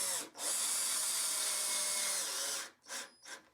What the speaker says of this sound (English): Take the screw and I dip it in some furniture wax before I drive it home